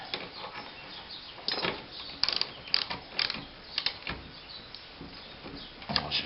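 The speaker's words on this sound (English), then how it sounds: "So we need to select the appropriate spanner, or should I say socket." A socket wrench ratchets on the captive-nut reel adjusters of a Scott Bonnar lawnmower, giving bursts of close, crisp metallic clicking with short pauses between strokes.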